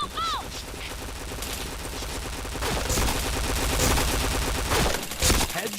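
Rapid bursts of gunfire from the video game PointBlank, loud and dense through the whole stretch, with repeated rattling shots and game effects layered together.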